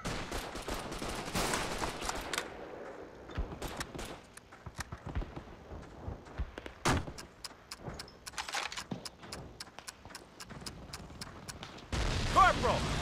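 Gunfire in Call of Duty: Big Red One comes as a World War II battle din, with scattered sharp shots followed by a steady, evenly spaced string of rapid reports. Voices are heard over parts of it.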